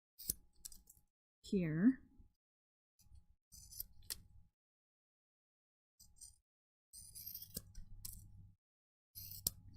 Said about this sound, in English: all you would need to do is just trim the edges